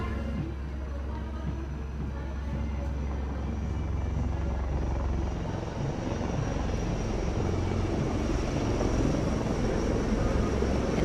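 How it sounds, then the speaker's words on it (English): A formation of two Dhruv and two Rudra advanced light helicopters flies past during the Indian Republic Day parade, a steady rotor and engine roar that swells slightly as it goes by, with crowd ambience beneath. "we have the advanced light helicopters. The formation consists of 2 Dhruv helicopters and 2 Rudra helicopters"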